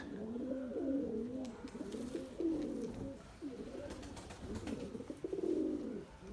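Pigeons coo in overlapping, rolling phrases, several birds calling close by in a steady, soft chorus with faint background rustling.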